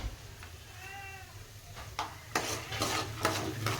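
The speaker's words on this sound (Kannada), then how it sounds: "ಚಂದ ಫ್ರೈ ಆಗ್ತಾವೆ ಇವು. ಈ ಥರ ಕೈ ಆಡಿಸ್ರಿ." Roasted gram (putani) fries in a pan while being stirred, giving soft scraping and crackling bursts; a cat meows briefly near the start.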